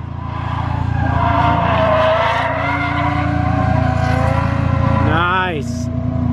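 A car engine drones under sustained throttle while drifting into a corner, its pitch wavering then surging with a sharp rise near the end; speech is faintly present beneath the engine.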